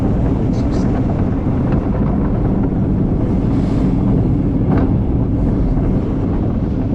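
Steady, loud rush of wind and rumbling track noise from a roller coaster at Paultons Park, including a backwards section, continuous throughout with brief faint voices mixed in.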